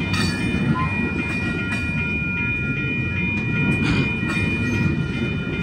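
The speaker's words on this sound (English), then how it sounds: "All right, folks, look at that train." Amtrak Coast Starlight passenger train number 14, northbound to Seattle on the Coast Subdivision in Oakland, California, rumbling past nearby with a steady, loud roll of railcars and faint wheel clatter, without talk.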